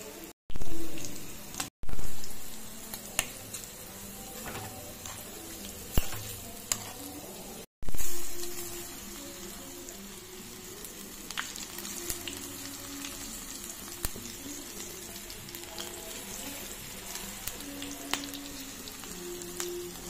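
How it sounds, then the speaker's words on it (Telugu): Okra (bhindi) pieces dropped one by one into hot oil in a pan, loud bursts of sizzling as each batch hits, then a continuous crackling fry with occasional pops. "ప్యాన్లో ఆయిల్ వేడైంది కదా, ఇలాగా విడివిడిగా వేసుకుందాం."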